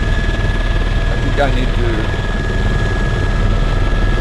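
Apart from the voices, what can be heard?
helicopter in Flight Simulator X video game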